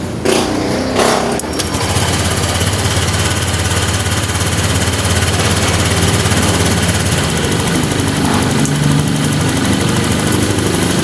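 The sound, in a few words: motor scooter engine starting and idling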